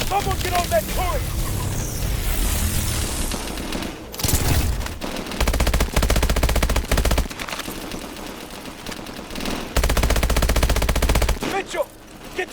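Turret gunfire from the video game Call of Duty Advanced Warfare: loud, dense bursts of rapid automatic fire and booming blasts fill the scene, with shouting voices mixed in during a battle.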